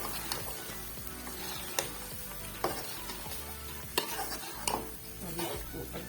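Chopped mustard greens and garlic fry in ghee and masala in a pot, with frequent scraping stirs and sharp spoon-on-pan clanks over a steady sizzle.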